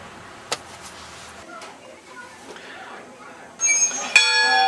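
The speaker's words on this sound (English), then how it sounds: "Kids are ringing the bell over here." A schoolhouse bell rings in the distance, a few struck tones with a brighter metallic ringing near the end, over quiet outdoor background and faint voices.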